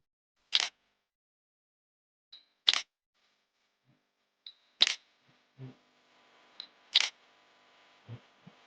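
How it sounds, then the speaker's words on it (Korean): A camera shutter snaps while photographing a used Hyundai Accent, four sharp clicks spaced a couple of seconds apart, with softer handling taps and faint shuffles between them in otherwise quiet surroundings. "내가 먼저 사진부터 찍을게"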